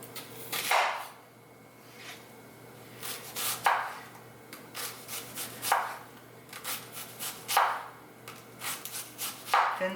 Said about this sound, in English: Thin strips of onion